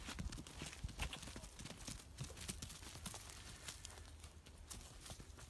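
Horse hooves clip-clop in a steady, close rhythm throughout, with faint background murmur.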